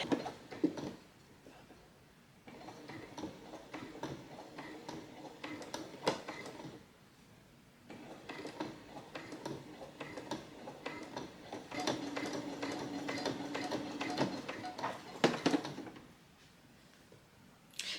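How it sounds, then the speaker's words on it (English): Sewing machine sewing bias binding onto fabric, with two long stretches of steady, busy mechanical running, close by and moderately loud, separated by brief pauses. "put your presser foot down and sew"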